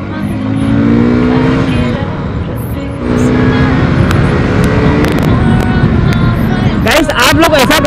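An uncle's car being driven, with a loud engine roar and road noise throughout, and people talking over it. A sharp burst of louder noise comes near the end.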